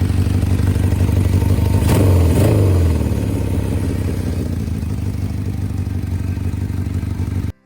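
A 1970s Honda CB750K motorcycle engine runs steadily up close, with a loud idle that briefly revs and swoops in pitch near the second mark before settling back into a constant rumble and cutting off at the end.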